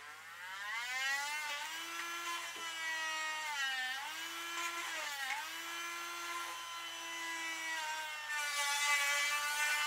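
A Dremel rotary tool cuts into an electronic kit's circuit board, giving a steady high whine whose pitch dips and recovers as the bit bites in, close and continuous, with no talk.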